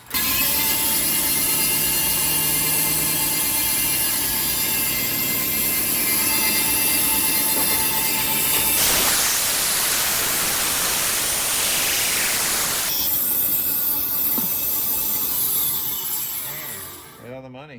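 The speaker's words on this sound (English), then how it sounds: "A big Dremel to cut." Big Dremel rotary tool cutting into a Yamaha FX FZR jet ski hull, a loud continuous high-pitched grinding whine with a harsh, noisier burst in the middle, steady and close throughout.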